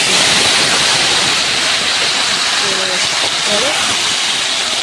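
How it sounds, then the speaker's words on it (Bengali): Potatoes and eggplant fry in hot oil with a loud, steady hiss that holds without a break from start to end. "আলু বেগুন চিন করছে হালকা ভাজা ভাজা করে নিই"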